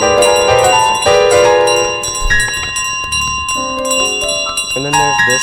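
A bell in Untitled Goose Game rings repeatedly in loud, bright tones that ring on and overlap one another, with game music and sound effects around them.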